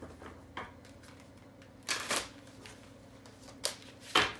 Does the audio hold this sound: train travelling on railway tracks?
no